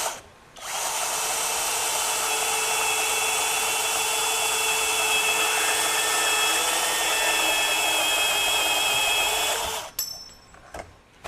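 A Flex 24V brushless compact band saw with a 2.5-inch capacity cuts 1-inch square metal tubing, a close, steady whirring motor whine with a high metallic ring, running for about nine seconds before spinning down.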